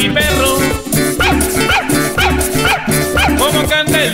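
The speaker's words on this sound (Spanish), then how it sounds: "¿Cómo hace mi perro?" A dog barks and yips in time within a cheerful Colombian música campesina song, several short bow-wow calls repeating over loud accordion-driven band music.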